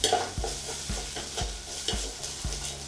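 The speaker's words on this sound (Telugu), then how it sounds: "ఇప్పుడు ముందుగా గ్రైండ్ చేసుకున్న అల్లం పచ్చిమిర్చి పేస్ట్ని ఇందులో కొంచెం ఫ్రై చేయాలి." Ginger and green chili paste fries with onions in a pan for a yogurt bottle gourd curry, a spatula scraping through it in steady strokes about every half second over a continuous close sizzle.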